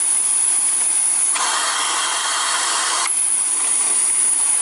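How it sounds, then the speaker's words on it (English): A Miele C3 Marin canister vacuum in auto mode hums with a steady, hissing motor that ramps up to a louder, harsher roar for about two seconds, then drops back to its lower pitch. "if we put it on auto, what's basically going to happen is it's going to throttle the motor up or down."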